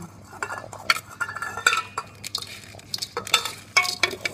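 Canned tuna with shrimp in jelly being mixed into dog food, with close spoon scrapes and clinks against a bowl in an irregular series, no talking.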